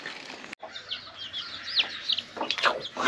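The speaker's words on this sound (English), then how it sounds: "It's little baby chickens." Baby chicks peep and cheep in high, quick chirps, close by and fairly soft, with a short burst of rustling or flapping partway through and faint background noise.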